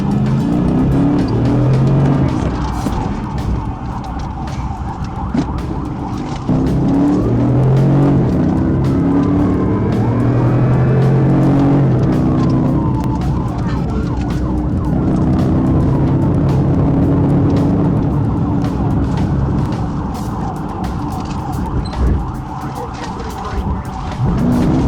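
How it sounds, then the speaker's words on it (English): Police pursuit of a car accelerating away, with a wailing siren rising and falling over a loud, steady engine roar and tire noise, close and continuous throughout, with some talk underneath. "As the patrol team approached, the vehicle accelerated and turned right onto Rodney Parham"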